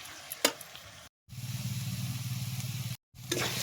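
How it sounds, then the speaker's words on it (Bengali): Ginger garlic paste frying in a pan, a steady close sizzle with a soft stirring scrape, broken by two short silent gaps. "আদা রসুন পেস্টটা দিয়ে দিলাম। পেস্টটা দিয়ে ভালো করে আবার একটু কষাবো।"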